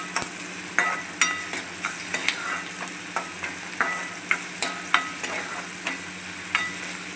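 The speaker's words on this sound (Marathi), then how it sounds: "आपण मसाला असं मिक्स करू" Onion and masala stirred and frying in a pan for dhaba-style kadai chicken, a continuous close sizzle punctuated by regular scraping spatula strokes about once a second.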